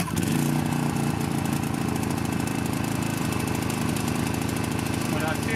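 Inverter generator engine in economy mode starting up and then running, a loud close chugging motor with a steady rapid pulsing beat throughout, with brief talk at the start.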